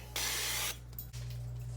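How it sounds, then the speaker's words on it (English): Coconut oil cooking spray hisses into a pan in one short burst of about half a second, close and clear over a faint steady hum. "I'm gonna grease it with a little bit of coconut cooking spray"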